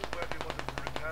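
Rapid automatic gunfire from the military shooter game Squad, about a dozen evenly spaced shots in a quick steady rhythm, close and prominent.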